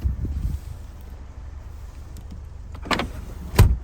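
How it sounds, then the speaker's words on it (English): Rear seats of a 2021 Mercedes-Benz GLC300 fold down automatically: a quiet motor hum followed by two sharp thuds as the seatbacks drop, close by in a still cabin. "Automatic seats go down."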